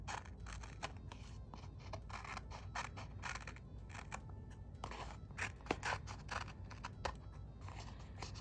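Scissors snip through printed paper decorations in a quiet room, a run of quick, close, soft cuts with faint rustling between them.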